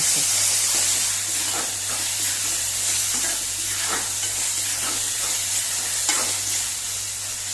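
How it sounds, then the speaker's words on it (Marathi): Masala for Goan-style spicy chicken made without coconut stirs and fries in a pan, a steady close sizzle with soft scraping stirs throughout, alone without talk. "आता हो मसालो बरो हे करपाचो।"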